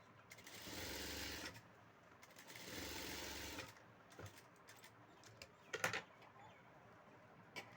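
A sewing machine stitches piping onto a lined blouse in two sustained runs of whirring, each lasting over a second, separated by a pause, followed by scattered faint clicks and handling noises close by.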